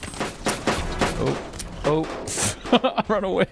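Rapid video-game gunfire in an online shooter, bursts of shots crackling through walls mixed with a player's excited talk over the top.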